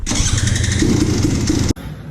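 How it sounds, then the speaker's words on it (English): A dirt bike engine being started, a loud, close mechanical cranking and revving burst that cuts off abruptly, followed by a quieter rumble. "Well, does this thing start? What thing? This dirt bike?"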